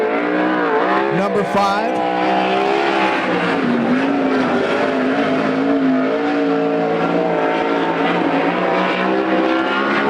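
Sprint cars roar around Coos Bay Speedway during Western Sprint Tour qualifying, a continuous loud engine drone with shifting pitch as a car laps, an announcer talking over it throughout.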